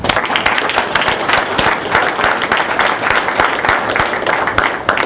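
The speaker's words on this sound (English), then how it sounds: "I want to give a round of applause to everybody who's been here and all the fans in the city" An audience at a 2014 Cornwall River Kings press conference applauds continuously. The clapping is close, dense and energetic, with sharp individual claps standing out from the steady roar of the crowd.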